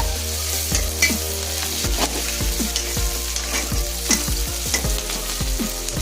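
Onions for crab kulambu fry in oil while being stirred, a loud close sizzle broken by regular scraping and tapping strokes of the spoon against the pan, continuous throughout with no voices.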